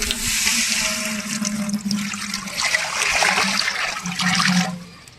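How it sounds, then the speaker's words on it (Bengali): Steady rushing and splashing of water pouring into a cooking pot for tehari rice, continuous and close for several seconds with no talking. "এর জন্য প্রথমে পানি ঢেলে দিলাম।"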